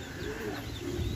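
A pigeon coos softly, a low murmuring call against steady outdoor background noise.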